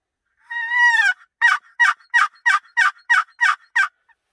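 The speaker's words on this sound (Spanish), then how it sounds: "Los guajolotes cantan en aquel cerro." Gould's wild turkey in Mexican hill country: one loud, clear gobble, then a rhythmic series of about nine sharp clucking yelps, all close and isolated against silence.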